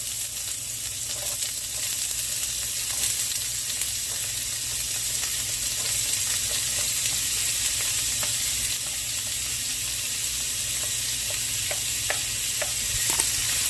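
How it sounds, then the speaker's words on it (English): Peppers and onions sautéing in a couple tablespoons of olive oil in a pan on medium-high heat, a steady close sizzle with scattered crackles and occasional light stirring taps throughout, no voices. "Sauteing them in a couple tablespoons of olive oil."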